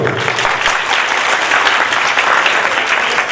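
An audience bursts into dense, loud applause, many hands clapping together at close range without pause.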